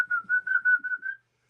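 A person whistles a short tune of about six clear, steady notes, close and loud, followed by silence.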